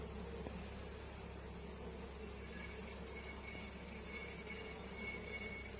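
Honeybees hum in a faint, steady, continuous drone around a hive just after a swarm has left, with no voices.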